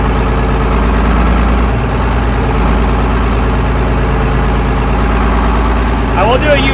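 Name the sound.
1950s Mack truck air-cooled engine running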